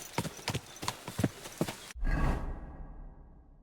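Horse hooves clip-clop in a steady rapid rhythm in the medieval video game Kingdom Come: Deliverance II, then break off into a muffled rumbling whoosh.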